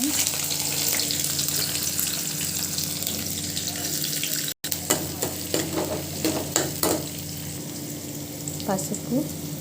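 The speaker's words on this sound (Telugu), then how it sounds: "ఆయిల్ వేడెక్కిన తర్వాత పోపు దినుసులు వేసుకోవాలి." Tempering spices crackling in hot oil for a taro root curry, a close steady sizzle with sharp popping bursts and stirring clatter, briefly cut off midway before resuming with irregular spits.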